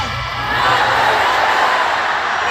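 A large arena crowd at a Philippine Arena political rally roars with sustained shouting and cheering, a dense steady wash of voices that holds loud throughout.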